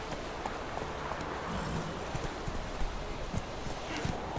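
A horse gallops in The Witcher 3: Wild Hunt with a fast, continuous clip-clop of hooves over rustling ground, steady and close amid dense game ambience.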